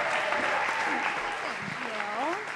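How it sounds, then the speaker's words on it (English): Audience applause for a performer being welcomed onstage at a social event, a steady broadband clapping wash throughout, with voices and cheers riding over it. "Give her a round of applause."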